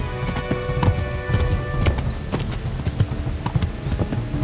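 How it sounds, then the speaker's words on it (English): A horse ridden along a path in the Kingdom Come: Deliverance video game gives steady, close clip-clopping hoofbeats throughout, over faint outdoor ambience. "When riding, you can give your horse its head and it will stick to the path you're on"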